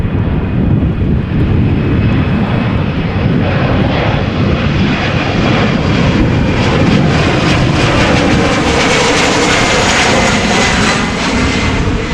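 A KLM passenger jet lands at Amsterdam Schiphol Airport during Storm Ciarán, its engines giving a loud, continuous roar with a rising whine, close and steady throughout.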